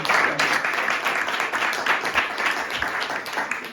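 A church congregation bursts into sustained applause, a dense wash of many hands clapping that holds steady at full strength throughout.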